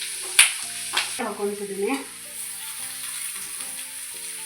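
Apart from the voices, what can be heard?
country chicken and masala frying in a pan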